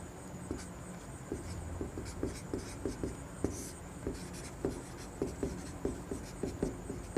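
Pen scratches across paper while a math solution is written out, a quiet sequence of short rhythmic strokes and taps close by, with no talk.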